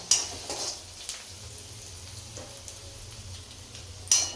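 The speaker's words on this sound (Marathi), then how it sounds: "कांदा परतून घेतलेला आहे" Onion sautéing in a pan, a soft low sizzle with occasional faint clinks of a utensil against the pan, quiet and close.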